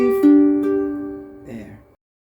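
A ukulele is fingerpicked in a PIM pattern through one measure of a song, with plucked notes ringing and overlapping, close and clear, and a final pluck fading out.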